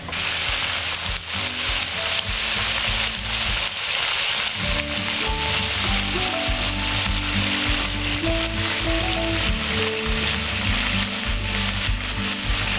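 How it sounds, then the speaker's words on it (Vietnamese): Marinated rat meat fries in a hot pan in a rustic Mekong Delta kitchen in Sóc Trăng. It gives a loud, steady, close sizzle with constant crackle and some stirring that runs the whole time without a break. "Mình ướp cho nó thấm rồi mình chiên thôi"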